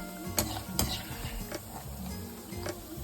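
Raisins frying in hot ghee in a pan while making payasam, with soft sizzling, occasional sharp clinks of a spoon against the vessel and stirring scrapes, fairly quiet and close.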